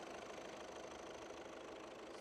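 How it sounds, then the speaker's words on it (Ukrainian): A 2011 Volkswagen Touran 1.6 diesel engine idles steadily with an even, low mechanical hum and faint knocking rhythm, recorded close and quiet with no voices. "Мотор працює чітко, рівненько, без запатівань, підтікань."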